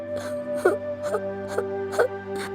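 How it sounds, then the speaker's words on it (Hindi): A woman whimpers and sobs in short repeated bursts, heard as a sound effect in an animated Hindi moral story about a bamboo house, with a steady tonal background running beneath. "उन लोगों को किसी औरत के रोने की आवाज आने लगी।"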